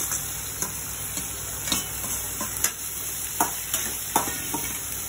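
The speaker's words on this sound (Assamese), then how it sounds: "অলপ জিৰা ঢালিলোঁ, স্কচ ভাজিম" Squash frying in a pan with cumin seeds and onion gives a steady close sizzle, broken by regular scraping stir strokes roughly every half second, with no voices.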